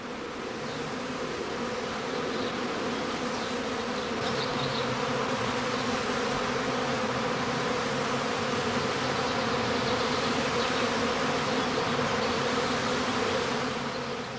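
Honey bee swarm buzzing around straw skeps as beekeepers catch it in a bag, a dense continuous hum of many insects that stays steady and fairly faint throughout, with no talking.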